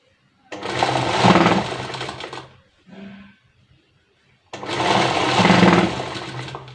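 Sewing machine stitching the waistband of a lehenga (chaniya), running in two loud sustained bursts separated by a short pause with a brief faint whir between them.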